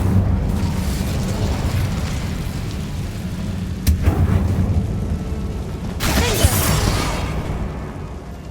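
The Incendio fire spell in Hogwarts Legacy goes off as a loud, booming burst over a rumbling game soundscape, with a second blast flaring a few seconds later.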